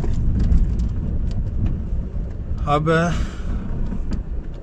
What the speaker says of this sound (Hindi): मैं ना अभी गाड़ी चला रहा था